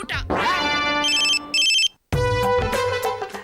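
A mobile phone ringtone plays loud and close as a bright electronic melody in repeated bursts, with a short break before it resumes; a voice is heard briefly near the start.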